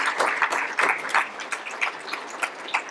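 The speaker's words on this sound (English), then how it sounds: "that's worthy of a round of applause for sure" Applause fills the room at an award ceremony, a steady wash of many hands clapping with a few louder, sharper claps near the front. It tapers slightly toward the end.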